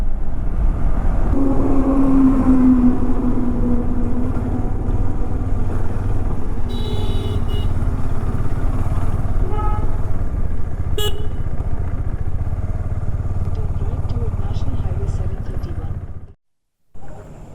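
Motorcycle riding along a road on the way to refuel, a steady engine and road rumble throughout with a horn honking briefly near the start, cutting off abruptly near the end.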